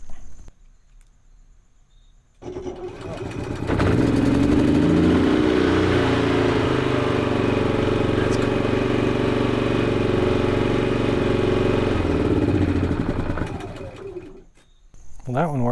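A portable generator engine starts up and runs at a steady, loud hum and rumble for about ten seconds, then winds down near the end. The running is bracketed by quieter moments.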